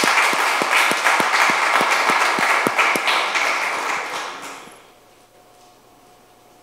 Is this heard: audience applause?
yes